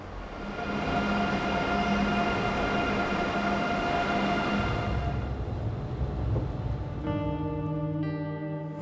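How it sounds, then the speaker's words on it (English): Train travelling through a scorched Andalusian landscape of hills and olive trees, a steady rumbling roll with sustained tonal whine, loud and close throughout, easing near the end as higher tones ring out, no talking. "I take another train through a scorched landscape as the sun punishes the hills and olive trees."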